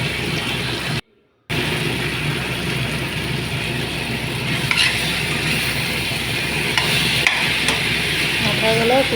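A fish-head and bean-seed curry with potatoes is stirred and fried in a pan, giving a continuous close sizzle with scraping and knocks and a brief silent gap near the start.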